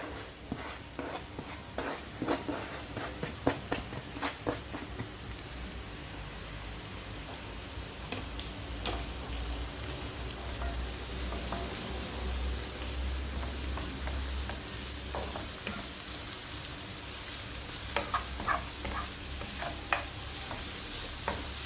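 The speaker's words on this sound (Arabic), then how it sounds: "صافي غنبقى نحرك في البصله ديالي حتى كتشحر" Chopped onion, then courgette, frying and sizzling in a pan at home, with a steady crackling hiss and scattered scraping stirs from a utensil throughout, close and fairly quiet with no talking.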